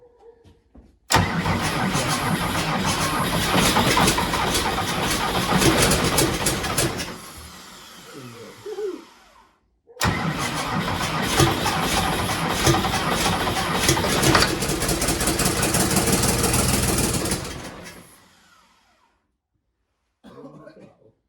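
A Ford 8700 tractor with a 270hp motor cranks and fires twice, each time settling into a loud, rough, close idle for several seconds before cutting out, with quiet pauses and faint background noise between the runs.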